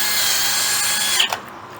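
A power driver sinks machine screws into a steel bracket with a steady mechanical whir for just over a second, then stops abruptly with a short click and rattle.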